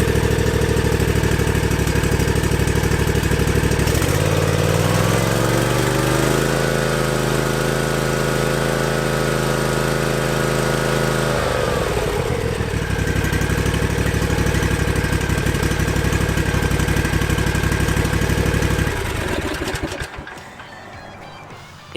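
A Cub Cadet Ultima ZT2 60 zero-turn lawn mower engine cranks and fires, then settles into a loud, steady, smooth idle with a brief rev-like shift midway, running continuously for about twenty seconds before cutting off.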